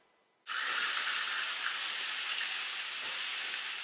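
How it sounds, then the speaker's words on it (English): Bacon sliced into inch pieces hits a hot skillet and bursts into a loud, steady hiss and sizzle that continues evenly without talk. "So Marco, we're just frying the bacon on a hot skillet here."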